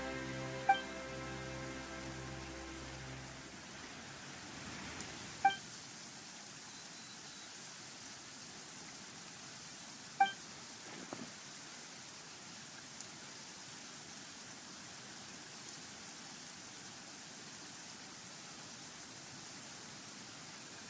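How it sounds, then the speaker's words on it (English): Rain falls steadily in the video game Genshin Impact during Archon Quest 4.1, a soft continuous hiss with a few faint clicks, replacing music that fades out early. "Why is it raining all of a sudden?"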